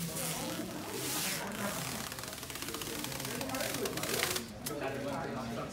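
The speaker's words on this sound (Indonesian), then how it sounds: "Suara plastik baru guys." Large new plastic wrapping from a whiteboard unboxing crinkles and rustles continuously, close up, with sharper crackling bursts as it is handled.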